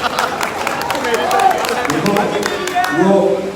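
Crowd at a political gathering in Ramnagar claps on request, scattered hand claps mixed with loud voices and talk rising over the clapping throughout.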